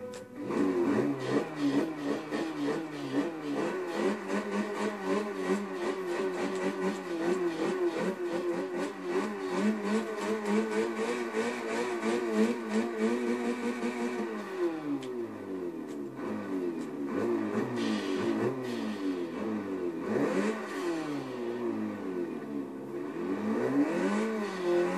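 A hatchback's engine in the racing game Forza Motorsport 6 starts and revs steadily, its droning note rising and falling in pitch through repeated blips with no talk over it.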